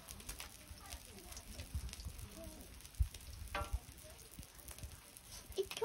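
Pork belly sizzles and spatters in a pan at a day-trip campsite, a steady crackling hiss with sharper pops, while voices talk over it.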